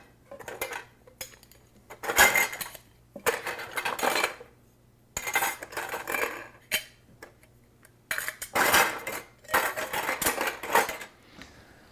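Plastic lids for kefir containers are gathered from a kitchen in bursts of clattering, clinking rummaging, close and separated by short quiet gaps, with no talk.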